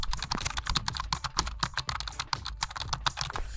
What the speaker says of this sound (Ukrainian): Дивіться, слухайте, який звук, коли, коли печатаєш.